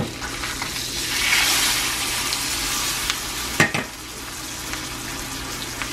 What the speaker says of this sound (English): I'm going to turn this heat down since the butter's starting to burn a little bit